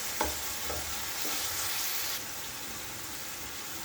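Spice paste frying in a pan with steady close sizzling broadband hiss, a few soft stirring scrapes early on, and the texture easing slightly partway through.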